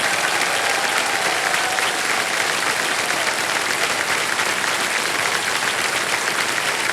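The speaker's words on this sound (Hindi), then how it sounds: "ताली बजते रहे" A studio audience applauds steadily at a game show, with dense, continuous clapping at an even loudness from start to finish.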